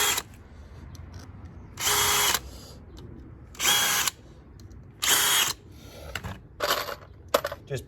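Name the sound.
power drill drilling pilot holes in decking joist hangers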